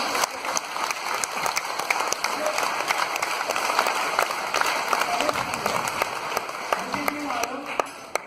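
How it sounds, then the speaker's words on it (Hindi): Seminar audience in a hall clapping steadily and densely throughout, a broad sustained wash of many hands with some voices mixed in. "जब भी मौका मिले ताली बजाने का, आपको ताली बजानी चाहिए"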